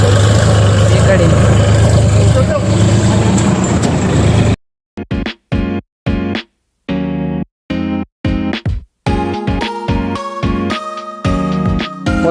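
A tractor engine runs with a steady, loud, low chugging hum for several seconds, then gives way to choppy, broken-up talk.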